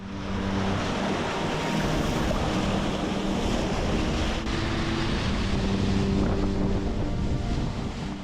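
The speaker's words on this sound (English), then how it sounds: "we're surfing along pretty nicely here. Of course, on a camera one never really sees quite how big the waves are" Ocean waves surge and wash around a sailing yacht at sea in a steady, loud roar, with strong wind buffeting throughout and no voices.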